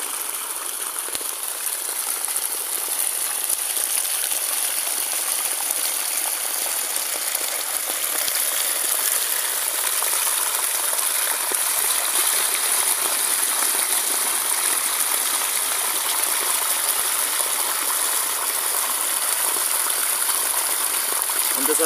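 Irrigation water flowing into a groundnut field on a farm, a steady broad rushing hiss that stays constant for the whole stretch, with faint mechanical ticking underneath.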